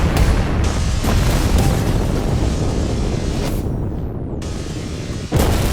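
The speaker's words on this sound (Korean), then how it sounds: "일하던 지하 주차장에서 폭발 사고가 일어났다" A deep, loud explosion booms through an apartment's underground parking garage, its rumbling roar sustained for several seconds before cutting off abruptly.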